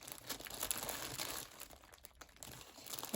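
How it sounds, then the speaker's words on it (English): A box of card-making embellishments is rummaged through, giving soft, continuous crinkling and rustling of small packets with a few sharper crunches, close and fairly quiet, with no talk. "Do excuse me rustling."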